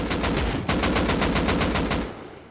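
Rapid automatic AK rifle fire in the survival game Rust, a loud sustained burst of evenly spaced shots that cuts off near the end, with no talking.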